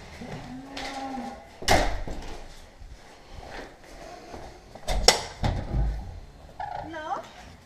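Dairy cows low inside a barn on a Polish farm while someone talks to them, the moos rising between louder clatters and knocks nearby.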